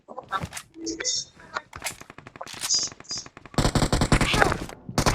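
Rapid bursts of gunfire crackle in a shooting video game, alternating with short clucking and chirping effects and a dense loud barrage near the end, with a voice talking briefly.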